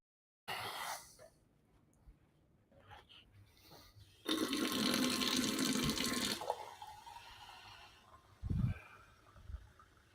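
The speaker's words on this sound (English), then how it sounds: "I'm gonna refill my water glass while you guys are thinking" A drinking glass is refilled with water, a steady pour of about two seconds preceded by softer handling clatter and followed by a brief clink and splash, close by with no talking.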